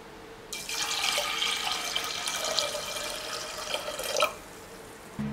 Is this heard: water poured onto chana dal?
yes